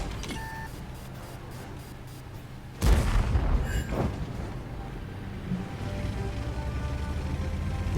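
A single heavy tank cannon shot booms in a tank video game, followed by a rumbling decay and low battle ambience.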